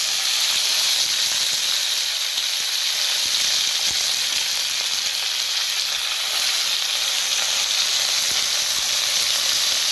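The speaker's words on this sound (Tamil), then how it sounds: "மல்லி, கருவேப்பிலை, புதினா அந்த 3 மொத்தமாக போட்டு இன்றைக்கி வந்து துவையல் நல்லா வதக்கி எடுக்கலாம்." Coriander, curry leaves and mint sauté in a pan with a loud, continuous hiss of frying and steam throughout, close and unbroken, with no voices.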